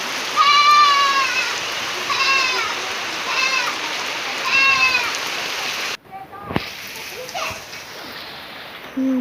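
Heavy rain pours steadily outdoors in a rural village, a dense hiss running through the whole stretch, with goat bleats rising over it early on and a cut midway before the downpour continues.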